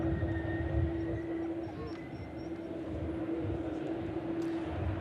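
Boeing 747 departing Manchester Airport, a steady distant jet engine roar with a sustained whine, continuous and moderately loud throughout.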